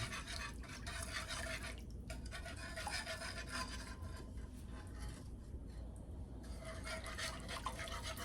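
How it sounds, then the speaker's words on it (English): A spoon stirs pork chop gravy in a pan, a steady wet scraping and swishing with liquid sloshing, continuous and close throughout. "we're going to go ahead and give this a stir"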